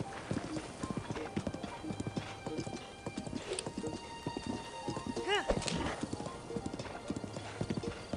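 Horse galloping in the Zelda: Breath of the Wild video game, with rhythmic hoof clip-clops and an occasional whinny running steadily throughout, mixed with game music and a voice talking over it.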